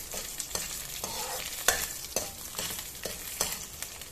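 Mustard seeds and lentils fry in hot oil with a steady close sizzle, broken by sharp pops from the seeds and scraping stir strokes every half second or so. No one speaks.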